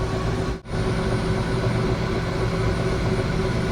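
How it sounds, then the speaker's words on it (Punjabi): A helicopter cabin over Sydney fills with a loud, dense, unbroken engine and rotor roar just before the flight lifts off, with one brief dip early on. "ਹੁਣ ਦੇਖਦੇ ਆ ਆਪਣੀ ਫਲਾਈਟ ਉੱਡਣ ਵਾਲੀ ਹੈ"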